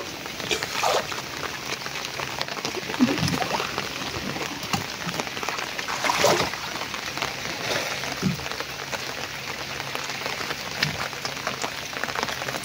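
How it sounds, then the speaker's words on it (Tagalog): Rain falling outdoors during a fishing outing, a steady hiss of drops on surfaces with scattered louder splashes and taps throughout, no speech over it. "Ulan-ulan ngayon."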